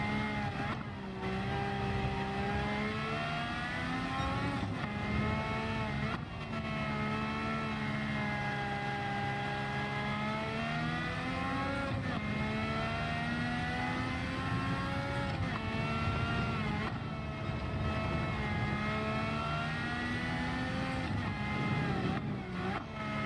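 Engine of a Honda RA272, a 1965 historic Formula One car, racing at Deep Forest in Gran Turismo 7, a high-pitched howling whine that rises and falls steadily through gear changes, loud and continuous throughout.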